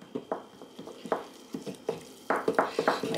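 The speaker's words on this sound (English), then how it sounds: "give it a good stir here" A spoon stirring sourdough starter with added water in a kitchen bowl makes a run of wet, sticky scraping strokes in an uneven rhythm, close and clear, the strokes growing quicker and busier near the end.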